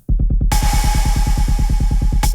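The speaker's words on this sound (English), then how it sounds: "So now with our reverb, it sounds like this." A trap drum loop in a Skrillex-style production pounds out steady, punchy kicks and snares, with a long bright reverb wash swelling over every other snare, loud and upfront with no talking.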